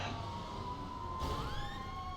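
A police car siren in the GTA 5 video game wails steadily with a rising, sweeping tone, moderately loud and alone, with a sharper shift partway through as the pitch climbs again.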